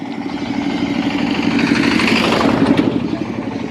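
A newly bought motorcycle, one of a group's bikes stopped for a tea break near Mousumi Island, idles close by with a steady, loud mid-pitched engine rumble and no talking over it.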